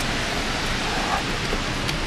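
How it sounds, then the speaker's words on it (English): Heavy rain falls at night in Mexico City, a constant, loud hiss of downpour filling the whole scene with no breaks. "Lots of rain tonight."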